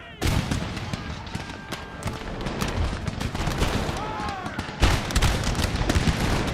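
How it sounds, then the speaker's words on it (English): Canister shot cannon fire in the strategy game Empire: Total War, a dense loud barrage of overlapping booms and crackling volleys that rolls on continuously, with a voice shouting over the battle. "Canister shot!"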